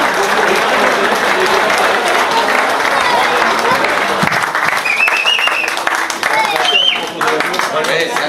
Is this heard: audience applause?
yes